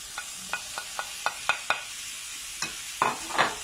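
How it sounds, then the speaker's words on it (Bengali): Tomato fries in oil in a pan while a utensil stirs it, giving a string of sharp scraping clicks at an uneven pace over a faint sizzle. "তারপর এটাকে আবারও 1-2 মিনিট ফ্রাই করে নিতে হবে।"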